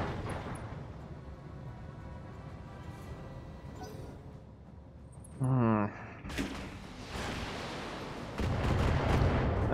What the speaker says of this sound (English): Firing at full salvo.